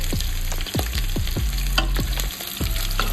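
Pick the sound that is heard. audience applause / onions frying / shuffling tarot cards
onions frying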